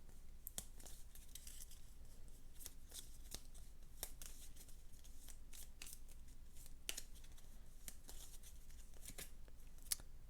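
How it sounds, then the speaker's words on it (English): A deck of turn order cards for the board game Aeon's End is shuffled steadily, with repeated crisp riffling snaps and soft slides recurring throughout at a quiet, close level. "Shuffle up this here turn order deck."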